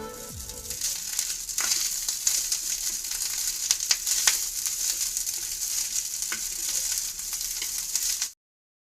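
Rice is stir-fried in a coconut tempering with grated fresh coconut, a continuous close sizzle with scattered spatula scrapes and clicks, then cuts off abruptly.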